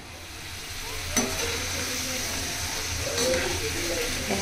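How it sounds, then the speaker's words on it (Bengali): Potatoes fry in a pan with a steady close sizzle and occasional stirring clatter, while voices murmur faintly in a busy home kitchen. "এখানে এখন হচ্ছে আলু ভাজা"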